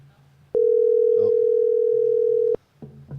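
A phone on an outgoing cold call gives a single long, loud steady ring tone lasting about two seconds, then cuts off, with a little quiet talk-like sound after.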